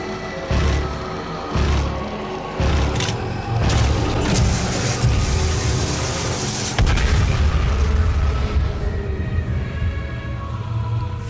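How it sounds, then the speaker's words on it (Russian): Heavy booming blasts and crashing bursts in Doom, several loud impacts early, then a sustained rumbling roar with debris-like crackle continuing throughout. "Большой взрыв, вторая душа уничтожена"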